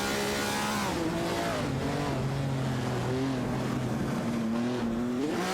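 Classic race cars in a racing video game run at sustained engine drone, their pitches rising and shifting together as two cars duel closely, continuous and fairly loud.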